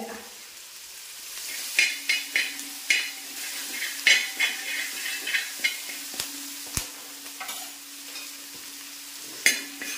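Curry leaves frying in hot oil in a pan for chicken kondattam: a stream of crisp pops and spatters crackles close by, with a few spatula scrapes and a faint steady hum underneath.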